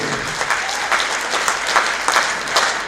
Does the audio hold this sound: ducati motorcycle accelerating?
no